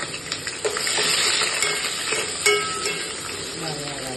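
Masala frying in a pan on a home stove, a continuous loud sizzle close by with occasional scraping stirs of a spatula.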